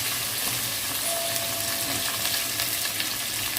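Onions and curry leaves frying in hot oil with spluttering mustard seeds and cumin, giving a dense, steady sizzle close up with occasional stirring and no talk.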